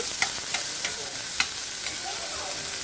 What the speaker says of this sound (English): I have some garlic olive oil that's heating up. I'm going to go ahead and throw in my small onion.